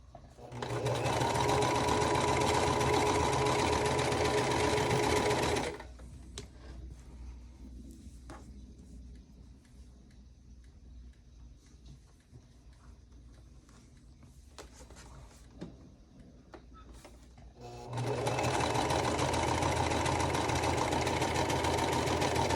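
A sewing machine stitches small quilt block pieces along a seam guide. It runs in a loud, close burst, falls to a quiet stretch with faint handling noises, then whirs up again near the end.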